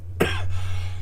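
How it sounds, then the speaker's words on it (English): A single harsh cough rings out up close against a low steady hum, then fades quickly. "Oh dear, sorry about the coughing."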